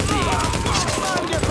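A magazine emptied in rapid automatic fire in The Division, loud, dense and continuous for a short burst, with a voice partly over it.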